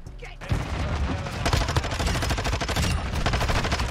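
Rapid automatic fire from a Vaznev 9K in Modern Warfare 2 rattles out in sustained bursts, loud and up close, with game effects and faint voice in the background.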